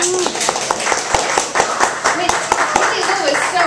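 Audience members clap for a friend at a poetry reading, with sharp, separate handclaps close by and loud. The claps fall in an uneven patter over lively background chatter, including a voice.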